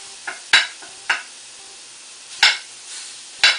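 Ground beef browning in a pan, with a steady bright sizzle broken by several scraping stirs, close and loud, with no talking.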